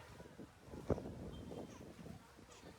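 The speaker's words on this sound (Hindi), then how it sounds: "उसके बाद बहुत अच्छी सुंदर हवा चल रही है।" Soft wind buffets the microphone in a low, steady rumble in a garden area in Shirdi after morning rain, with faint murmuring in the background.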